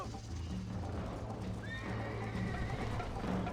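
In Red Dead Redemption, a horse whinnies partway through over a steady rhythm of hoofbeats, the galloping continuing throughout at moderate volume.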